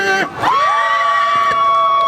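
A crowd at a K-pop idol busking show in Hongdae, Seoul, cheers and shouts in a sustained, rising roar, loud and close, after a brief dip.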